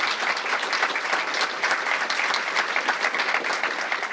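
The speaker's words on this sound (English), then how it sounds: "Give him a round of applause." An audience at a mayoral swearing-in ceremony applauds Reverend Donald Isaac, a steady, dense round of clapping that holds evenly for a few seconds with no talk over it.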